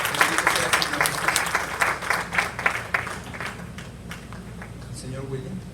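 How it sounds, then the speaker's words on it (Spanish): A church congregation applauding, a burst of many hands clapping that fades out over a few seconds, with voices audible alongside it. "aplaudan al Señor de señores"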